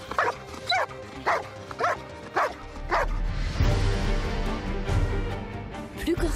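A search and rescue dog barks repeatedly on command during a free-search exercise, five sharp, evenly spaced barks up close, followed by louder rumbling handling noise and scattered yips.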